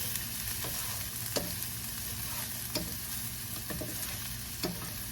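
Garlic, celery and ginger sauté in a pan, a steady close sizzle with a few sharp stirring scrapes spaced through it, no talk.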